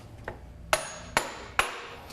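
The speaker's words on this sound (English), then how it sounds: "we can drive it home with a dead blow hammer" Three sharp, evenly spaced dead blow hammer strikes on metal ring out close by, driving a drivetrain case onto its dowels, with a fainter tap just before them.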